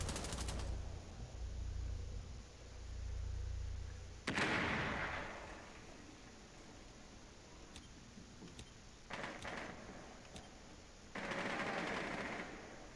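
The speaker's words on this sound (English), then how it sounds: "look out for someone shooting outside" Gunfire on the yacht map in Rainbow Six Siege comes as sharp bursts of automatic fire separated by quieter stretches, some shots close and loud, others thinner and more distant.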